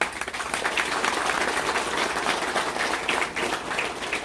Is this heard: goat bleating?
no